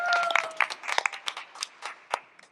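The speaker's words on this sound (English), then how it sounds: "Big round of applause for Larry and Arthur J." Audience applauding a sponsor at a live event, a short burst of scattered hand claps, moderately near, tapering off over a couple of seconds.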